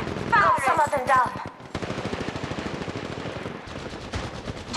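Rapid automatic gunfire in the Apex Legends Mobile shooter game crackles in dense bursts, loud and continuous, with a brief pause before the firing resumes over game sound effects.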